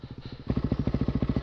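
A KTM off-road motorcycle engine at a quarry track chugs nearby in a quick, even rhythm of firing pulses, jumping louder halfway through as it revs up.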